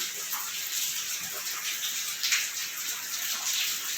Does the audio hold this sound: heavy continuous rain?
yes